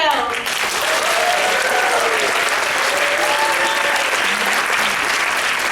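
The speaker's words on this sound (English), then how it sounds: "A warm round of applause, if you please, for our fully trained orchestra" A theatre audience at a stage musical gives a warm, sustained round of applause for the orchestra, a dense wash of clapping that stays loud and even from start to finish.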